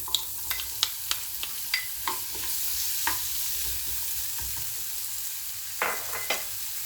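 Onion fries in a pan of butter with a steady, soft sizzle underneath, and a utensil stirring the pan makes sharp taps and scrapes at irregular intervals.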